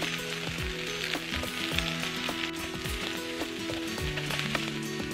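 Yakisoba noodles frying and scorching on a Peyoung maker hotplate give a constant faint sizzle, with a musical tone running underneath throughout, and no talking.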